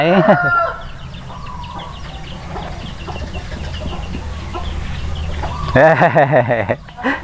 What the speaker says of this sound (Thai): เสียงไก่ตลอดเลย